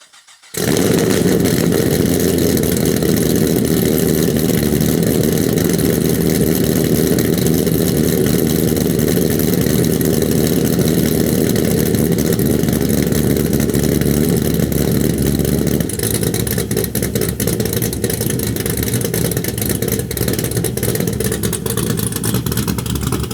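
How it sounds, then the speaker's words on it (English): Corvette C6 Z06 V8 cold start, the engine catching after a short silence and settling into a loud, dense, steady high idle that lowers slightly in tone later on, with no talking. "And I think it's time for a cold start."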